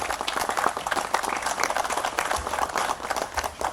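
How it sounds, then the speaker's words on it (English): An audience at a tourism investment announcement claps for a team, a quick patter of many hands heard at moderate level, steady and brief without talk. "can I please request us to please give a big round of applause to Vincent and the entire team"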